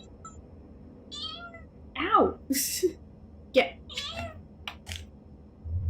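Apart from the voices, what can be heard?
pet cat meowing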